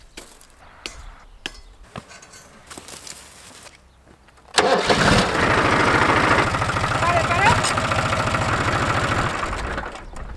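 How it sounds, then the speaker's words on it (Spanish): After a few scattered clicks and thumps, a tractor engine cranks and roars to life, then settles into a loud, steady chugging idle. "ahora vamos a lentamente avanzar con el tractor"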